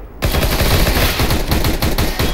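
Rapid bursts of automatic gunfire from CS:GO, loud and continuous, with rhythmic shots rattling close by.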